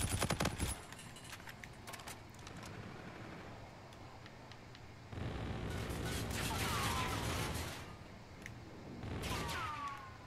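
Automatic gunfire rattles in Call of Duty: Infinite Warfare multiplayer, with dense bursts near the start, a sustained loud stretch in the middle and another burst near the end, mixed with other game sounds.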